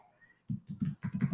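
Code is typed on a computer keyboard in a Java programming session, a short run of about eight close, crisp key presses in quick uneven rhythm after a brief quiet moment.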